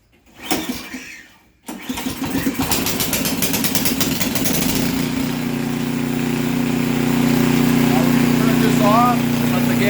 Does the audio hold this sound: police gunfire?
no